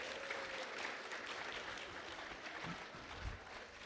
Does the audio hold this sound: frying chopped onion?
no